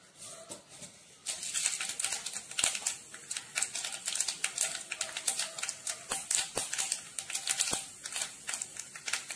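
Half a teaspoon of mustard seeds crackle and splutter in a tablespoon of hot coconut oil in a pan, giving rapid, irregular popping clicks that build after the first second and keep going close up with no talk.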